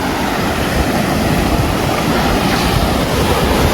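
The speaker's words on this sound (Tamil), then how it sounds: "கடல் வருது பாருங்க. நான் கடல் கிட்ட தான் இருக்கேன்." Ocean waves wash steadily onto a dark beach at night, a loud continuous roar of surf with wind buffeting the microphone and no pauses.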